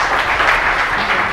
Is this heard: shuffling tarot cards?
no